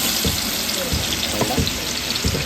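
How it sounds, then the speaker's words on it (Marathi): Chopped onions fry in hot oil for mutton curry, a dense steady sizzle with low bubbling pops and occasional stirring knocks underneath, loud and close with no talking. "या कांद्याला आपण लालसर होईपर्यंत परतून घेऊया"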